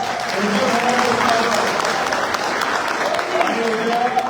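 Crowd applause at a BJP party office celebration after a municipal council election win, sustained and loud, with a voice speaking over the clapping.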